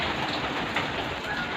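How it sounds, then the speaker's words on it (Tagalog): Heavy rain driven by typhoon wind, a steady dense hiss of falling water that stays constant and close, with no voices over it. "medyo lalakas yung ulan at saka hangin"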